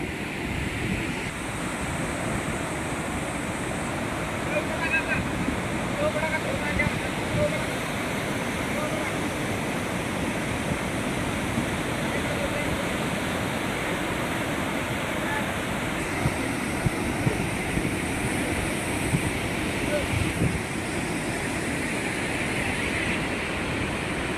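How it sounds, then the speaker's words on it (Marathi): Sahastrakund waterfall in Nanded, swollen by heavy rain, gives a loud, unbroken roar of crashing water with a wind-like rush throughout. "या मुसळधार पावसामुळे या धबधब्यानं अकराळ विक्राळ रूप धारण केलेलं आहे।"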